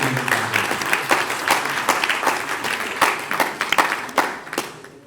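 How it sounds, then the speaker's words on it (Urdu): Audience applause at an Urdu poetry mushaira in Houston, a dense wash of many hands clapping, steady and fairly loud throughout, thinning slightly near the end. "اور میں انہیں بابا ہیوسٹن کہتا ہوں، ان کے لیے تالیاں بجا دیجیے"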